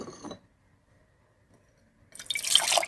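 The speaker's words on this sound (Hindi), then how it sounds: "1 कप पानी हमने डाल दिया।" Water poured from a cup into a Turkish coffee pot, a short splashing trickle coming in after a quiet pause and running on close and fairly loud to the end.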